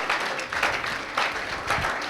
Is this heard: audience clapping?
yes